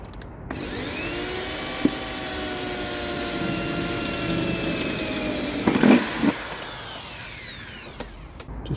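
Power drill boring a hole through thin sheet metal on a Mazda MX-5 Miata NC during a turbo build, a steady whining motor that runs for several seconds with a brief bite and rattle near the end, close and alone.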